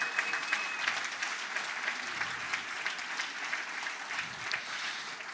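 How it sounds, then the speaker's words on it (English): A large crowd at a Veterans Day rally claps steadily for several seconds, a dense, even roar of applause that neither builds nor fades. "Give them a round of applause for all their hard work."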